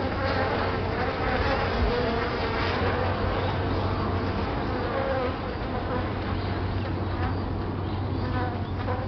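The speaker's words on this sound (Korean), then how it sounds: "몸을 흔들고 날개를 펄럭이며 소리를 내어 적을 위협합니다" Japanese honeybees beat their wings and shake their bodies to threaten a hornet, making a dense, continuous buzzing drone. It stays loud and steady throughout with no talk over it.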